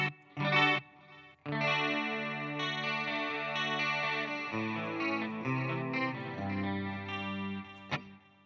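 An electric guitar run through the Fender Studio Pro 80s Hysteria effect preset, chorused and slightly distorted notes and sustained chords ringing out alone, with a brief stab near the start and a short click near the end.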